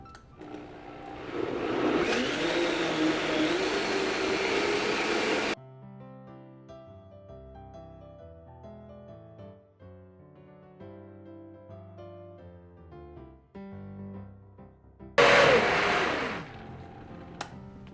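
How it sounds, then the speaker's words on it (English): A blender churns a creamy dairy-free sauce with lemon juice, a loud steady motor roar for several seconds, then stops while music plays, before a second short blast of blending at the end. "we're gonna blend this and get it all creamy"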